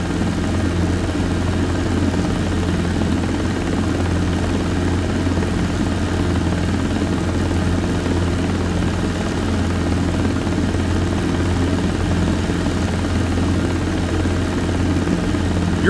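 A Robinson R22 helicopter in flight fills the cabin with a loud, unbroken rotor thump and engine drone that holds steady from start to finish, with no talk over it.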